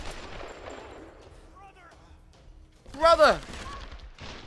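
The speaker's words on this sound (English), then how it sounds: "What are you shooting at though?" Gunfire in the video game Tomb Raider: brief bursts of shots that swell to a loud peak partway through, mixed with a shouted voice and other talk.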